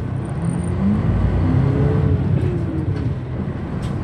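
A city bus on the Chubu national highway line near Mariko 3-chome, Japan, pulls away from a stop, its engine rumbling low and steady, rising slightly as it accelerates, close and continuous.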